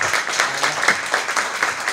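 Audience applause at a furniture showroom event, a short burst of lively, uneven clapping that rises and falls in quick pulses.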